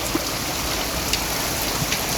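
A heavy downpour falls over a home garden with potted plants, giving a loud, unbroken wash of rushing water with a few small splashes standing out.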